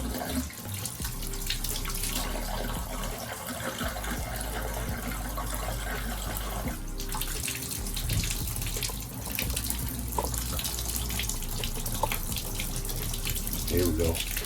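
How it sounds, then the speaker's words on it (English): A bathtub faucet runs hot water in a steady, close gushing stream into the tub, continuous throughout with slight shifts in flow. "Try the hot water now. This tub usually takes a second for the hot water to come up."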